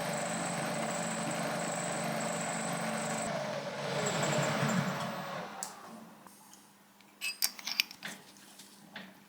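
A lathe drills with a cobalt stub drill, a steady machine whir with a high whine running for several seconds, then fading into quieter clicks and scattered metallic taps.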